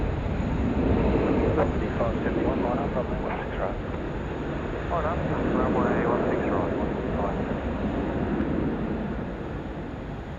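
A Boeing 737 MAX at Sydney Airport at night gives off a broad, steady jet roar, moderately distant and swelling slightly as it passes, with people talking over it throughout.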